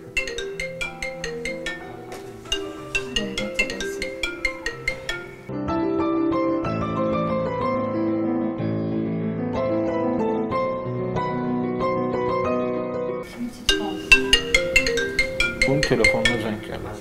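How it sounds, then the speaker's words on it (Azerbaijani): A mobile phone ringtone plays as a melodic tune, with bright repeated note bursts at the start and end and a sustained chord-like passage in the middle, clear and fairly loud with no speech over it. "Bunun telefonuna zəng"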